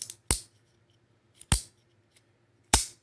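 Three sharp metallic snaps of a Demko AD20 folding knife flicking open and locking, close up and evenly spaced, each preceded by a faint click.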